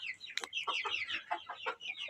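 Large farmyard hens and their young chicks cluck in short, choppy bursts close by, several birds overlapping in quick irregular calls without any talking.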